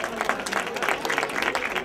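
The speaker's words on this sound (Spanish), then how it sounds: "Fuerte aplauso para ella." Applause from the audience at a trophy ceremony for the 2013 San Silvestre race in Rota, a steady spread of clapping lasting throughout, mixed with crowd murmur.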